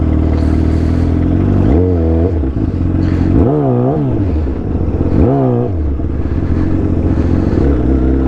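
A Yamaha R1 sport bike with an extended swing arm idles with a strong, steady engine drone, then revs up sharply three times in quick rising-and-falling bursts, loud and close throughout.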